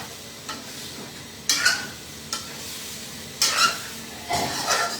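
Curry cooking in a pan sizzles steadily, with several distinct bursts of scraping and hissing as it is stirred at regular intervals.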